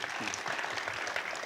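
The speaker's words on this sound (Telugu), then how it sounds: "గట్టిగా చప్పట్లు కొట్టండి" An audience at a spiritual gathering claps in a brief, dense burst of applause, moderately faint and heard from a distance.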